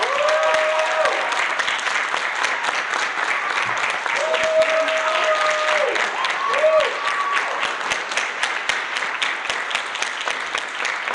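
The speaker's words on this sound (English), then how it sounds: "Clap it up for her." An audience at a poetry slam claps steadily and loudly throughout for a performer, with a few whistles rising over the dense applause.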